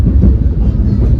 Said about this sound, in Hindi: हमारी ट्रेन पहुंची है रोहा